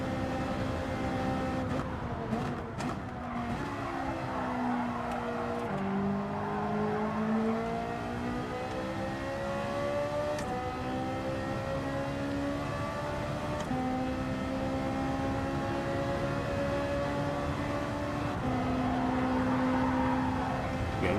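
A Ferrari engine in Gran Turismo 7 drones loud and steady, its pitch climbing and falling through repeated gear changes as the car is driven out on track, with no talk over it.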